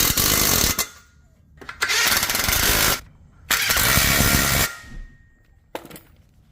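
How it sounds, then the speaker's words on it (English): Impact wrench with a 17 mm socket hammering nuts tight on a leg curl and extension machine, three loud rattling bursts of about a second each separated by short quiet gaps. "I did use an impact. This is a 17 mil, and that worked with all 6 of those nuts."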